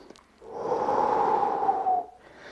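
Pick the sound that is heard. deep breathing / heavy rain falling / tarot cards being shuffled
deep breathing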